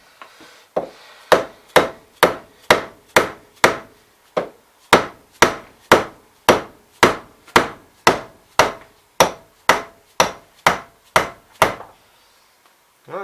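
Dead blow hammer pounding a Terramite T1 hydraulic cylinder during a rebuild, about twenty sharp, evenly spaced heavy thuds, close and loud, with no talk.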